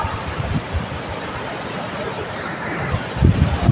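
Strong wind roars steadily across an open rural setting, a dense continuous rush that swells louder near the end with buffeting gusts against the microphone.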